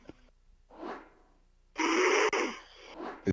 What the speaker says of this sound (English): Yo, he snores so loud.